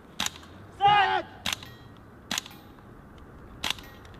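Gunshots at a German police shooting training, four sharp single cracks spaced about a second apart, fairly close, with a short shouted voice between the first two.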